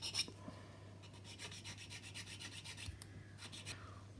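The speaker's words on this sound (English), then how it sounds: "I'll just do a little bit of work with a file just to smooth that" A hand file smooths and chamfers a plastic part from a 1/200 scale Bismarck model kit, giving a series of close, rhythmic rasping strokes with brief pauses between them. No voices.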